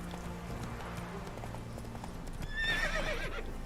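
Hooves of Roach, the horse in The Witcher 3, clip-clop steadily at a moderate distance under game ambience, followed by a short whinny near the end.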